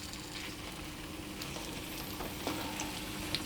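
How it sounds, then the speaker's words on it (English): Potatoes cooking gently in a covered frying pan for a Spanish tortilla, giving a soft, steady sizzle and faint frying crackle throughout, with a few small clicks and no voices. "I'm going to allow those potatoes to cook gently for 10 minutes"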